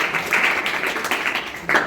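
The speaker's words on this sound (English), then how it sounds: "Please clap for them." An audience at a school debate on whether rules are necessary claps for the judges. Continuous crowd clapping runs throughout, moderately loud and near, with a few sharper surges.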